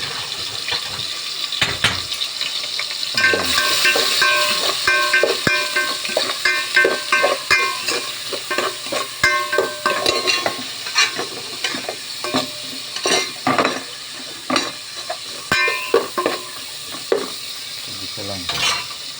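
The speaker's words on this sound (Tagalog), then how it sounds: "Magisan natin ng bawang sibuyas" Garlic and onion sauté in a pan, a steady close sizzle broken by frequent scraping and stirring clatters, with no voices.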